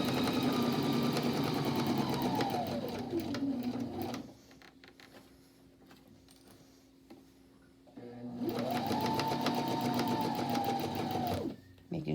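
Face mask seams run through a sewing machine in two fast, continuous bursts of rapid needle chatter. The motor whine ramps down, then back up, with a quieter pause between the runs where a voice talks faintly.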